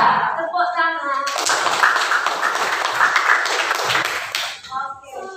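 A class of school students claps together in a burst of rhythmic, loud clapping lasting several seconds, with voices around it before and after.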